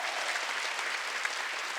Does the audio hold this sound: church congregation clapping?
yes